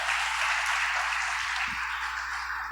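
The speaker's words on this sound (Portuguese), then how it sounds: "aplauda o Senhor Jesus nessa noite" Church congregation applauding together during an evening service, a steady dense wash of clapping that holds from start to finish at moderate distance.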